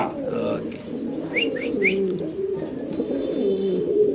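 Pigeons kept for sale coo in low, rolling, repeated calls close by, with a few short chirps layered over the cooing and a voice talking underneath.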